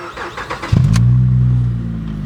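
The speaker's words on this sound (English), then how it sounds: "I'm gonna go ahead and start it up." A car with keyless push-and-turn start cranks briefly and catches, then settles into a loud, steady idle up close, with a faint hint of a possible exhaust leak.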